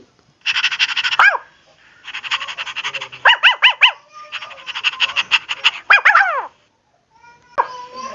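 A dog in a Tamil cartoon story barks in rapid, repeated bursts of yaps and yelps, loud and close, separated by short pauses, with no talk over it.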